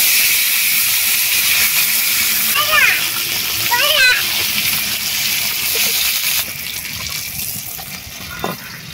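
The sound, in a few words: marinated fish sizzling on a hot tawa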